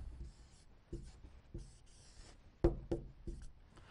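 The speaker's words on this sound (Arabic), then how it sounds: "طيب اكتب كلمه ثانيه يا عم عزب" A word is handwritten during a children's reading lesson. Short, soft scratchy strokes come in separate bursts, close by and quiet, with no talking.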